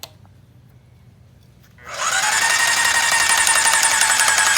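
A Graco airless paint sprayer's piston pump starts up after a quiet pause, then runs with a loud, steady, high-pitched mechanical whine and hiss that continues to the end.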